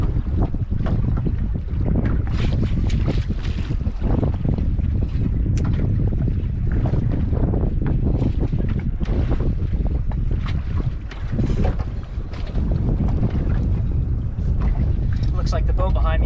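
A fishing boat rocks on open ocean water off Catalina Island, with steady loud wind buffeting the microphone and engine and water rumble throughout, and occasional voices underneath.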